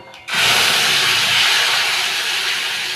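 Cumin and green chilli paste dropped into hot oil while cooking Bengali hilsa fish curry, bursting into a loud, steady sizzle after a brief quieter moment and hissing on continuously.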